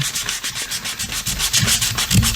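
Hand sanding of painted baseboard trim at a spliced seam, a steady rhythmic scratchy rubbing with repeated back-and-forth strokes, close and fairly loud with no talking.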